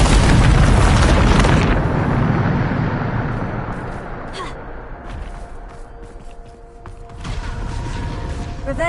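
A Bombarda explosion spell in the video game Hogwarts Legacy opens with a loud, roaring blast that rumbles away over a couple of seconds, then gives way to quieter creaks and faint effects before another swell of noise.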